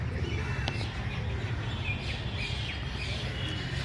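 Birds and parrots chirp faintly around a bodhi tree in temple grounds in Nepal, scattered soft calls over a steady low outdoor rumble.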